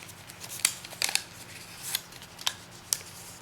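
Sheet of origami paper being folded along a crease while making a heart-shaped bear, giving several crisp, sharp paper snaps and rustles spaced irregularly, close and fairly quiet with no voices.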